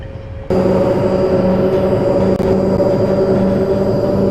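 Traction motors of a Pendolino train in Train Simulator Classic give a loud, steady rumbling drone with a sustained whine on top. It cuts in abruptly after a brief quiet start and holds level to the end.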